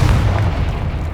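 A Confringo spell bursts in Hogwarts Legacy, a loud, deep boom that fills the brief moment with a low rumbling blast.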